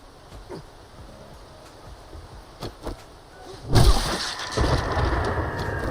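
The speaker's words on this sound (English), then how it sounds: "The thunderclap right after I kill the vulture." In a video game, a sudden thunderclap bursts into a loud, sustained rumbling roar after a few seconds of quiet ambience with scattered soft knocks, staying heavy and broad to the end.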